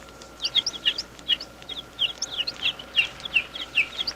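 Week-old peregrine falcon chicks, hatched in captivity and marked with dye spots, give a busy series of high, sharp cheeps and chirps in quick repeated bursts, close by, with no talking.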